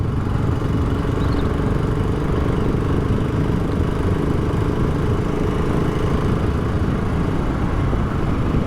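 A BSA Goldstar motorcycle engine runs steadily close by, a loud continuous thrumming rumble with a dense low-end throb that holds even throughout, with no one talking over it.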